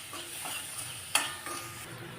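Jackfruit seeds and coconut bits are stirred in a frying pan, giving a faint, continuous sizzle with a soft scrape from the spoon midway.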